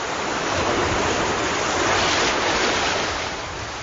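Ocean waves break on a North Carolina beach in a loud, continuous rushing wash of surf that swells slightly midway and then eases, with no voices.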